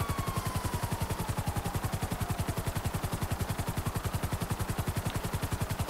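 Helicopter in GTA 5 Online, a steady fast rotor chop thudding in an even rhythm from start to finish, with a faint whine sliding downward early on.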